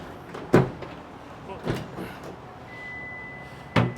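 Tailgate of a 2024 Toyota Tundra fitted with a bed cover being pulled open: three sharp mechanical clunks and latch thuds spaced a second or two apart, close and fairly loud over a quiet background hum.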